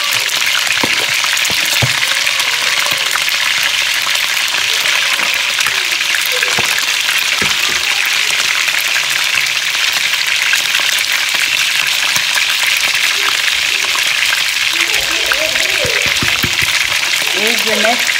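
Fifty grams of butter and a little oil heat in a pan, making a loud, continuous sizzle with scattered crackles and pops throughout.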